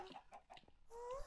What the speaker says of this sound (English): just chasing chickens around.